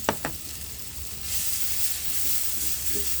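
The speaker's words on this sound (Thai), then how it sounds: "แล้วเราก็จะใส่กระเทียมลงไปเจียวให้หอม" Garlic hits hot oil with a couple of sharp clicks at first, then a bright, even sizzle swells up and holds steady close by, with no voices over it.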